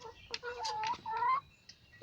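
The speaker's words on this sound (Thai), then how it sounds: "อันนี้ลูกมันกำลังไข่น่ะลูก เห็นไหมน่ะกำลังจะไข่อีกแล้วน่ะ" A hen clucks while laying an egg, giving a short run of clucks and rising squawks close up, a brief burst of agitated calls followed by quiet.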